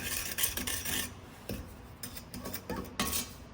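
Salt water taffy ingredients and lumpy cornstarch stirred together in a cold pot, giving repeated close scraping and clinking strokes at an uneven rhythm with no voices.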